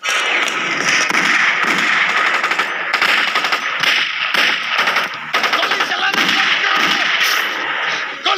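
Sustained machine-gun fire in a Hindi action film shootout, loud rapid bursts of gunshots rattling almost continuously with brief gaps, close and dominant, with faint shouting underneath.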